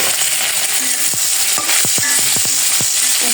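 Paneer pieces dropped into hot oil with cumin seeds in a village kitchen pan: a continuous loud sizzle and hiss, punctuated by scattered sharp clicks and scrapes of a spatula moving the pieces.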